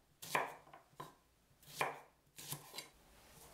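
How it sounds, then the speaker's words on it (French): Knife chopping three shallots into pieces on a cutting board, a few distinct close chops in an uneven rhythm with brief pauses between strokes. "Je coupe 3 échalotes en morceaux."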